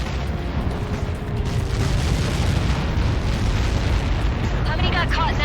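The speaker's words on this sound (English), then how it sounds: "How many got caught in that explosion?" A massive explosion in the Ace Combat 7 flight combat video game, a loud sustained roaring rumble that fills the whole stretch without letting up, with a faint voice trace near the end.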